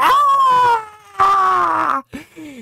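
A voice lets out two long, loud wailing screams, the second breaking off into a short strained cry, imitating someone yelling in a spoken audiobook.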